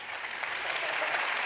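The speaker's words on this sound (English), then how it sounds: "A big applause for the panelists" Brief burst of audience applause for conference panelists at an EU event, a moderate, even wash of clapping from a seated crowd.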